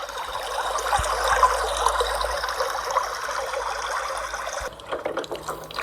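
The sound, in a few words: Lingmala waterfall, Mahabaleshwar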